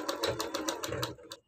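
A sewing machine runs a quick row of stitches along a blouse neckline, a close, fast mechanical chatter with an even beat that stops briefly, then gives one last short burst.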